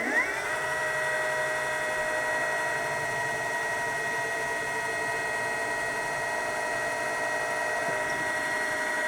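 A center drill bores a starter hole for a 6-32 set screw in a clock motor mount, giving a steady, thin, high-pitched whine that starts abruptly and runs evenly for about nine seconds at moderate volume, with no voices.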